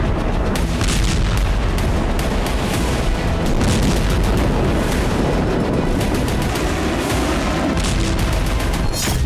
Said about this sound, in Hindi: जमीन पर बम धमाके हो रहे हैं।